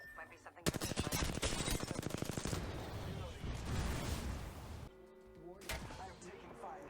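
Gunfire in Apex Legends, with a long burst of rapid automatic shots starting sharply and rolling into continuous loud shooting, then a brief pause and more firing near the end; in-game voice lines sit under the noise.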